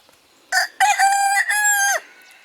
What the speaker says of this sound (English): He's just the ugliest chicken in the world.